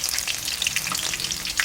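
Masala for masala borugulu fries in a pan with a loud, close, continuous crackling sizzle and light stirring, brief and without voices.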